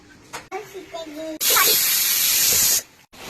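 A pressure cooker cooking raw mangoes lets out a loud sustained hiss of escaping steam for over a second, following a brief stretch of talk.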